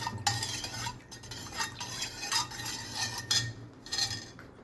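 Spoon stirring chili powder and salt into a pot of tamarind rasam, a steady series of scraping, clinking strokes close by with no talk.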